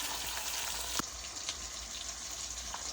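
Soft, steady sizzling of tomato and ginger-garlic paste dropped into hot tempering oil with chillies while cooking wild sponge gourd, a continuous hiss with a few faint pops and clinks, fairly quiet and without talk.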